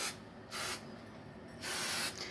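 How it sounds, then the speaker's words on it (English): Three short hissing bursts of butter-flavored nonstick cooking spray from an aerosol can, close and crisp, separated by brief pauses. "we're gonna spray them with some healthy chef butter flavored nonstick cooking spray"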